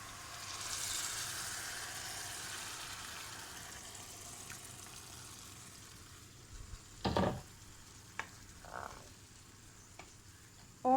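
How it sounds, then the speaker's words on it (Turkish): Hot water poured over rice sautéed for pilaf sets off a broad hiss and sizzle that slowly fades, then a few brief stirring and pan knocks, close in a kitchen. "4 su bardağı sıcak suyu ilave ediyorum"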